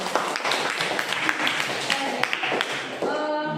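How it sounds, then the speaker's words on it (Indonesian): Schoolchildren clap together in a lively patter of applause, steady and close, with a few voices rising over it near the end. "Iya, tepuk tangan."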